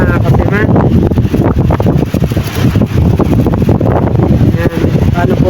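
Strong wind blows hard over an outrigger boat at sea, a loud, steady roar with mic buffeting from start to finish and speech mixed in at moments.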